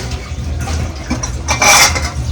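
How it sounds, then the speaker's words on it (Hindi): Dishes and utensils are washed and scrubbed in a home kitchen, with steady clinking and clattering of metal pots and cutlery, a brighter clang near the end, and no talking. "भाभी मांज रही है बर्तन"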